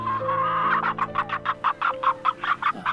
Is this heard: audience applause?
no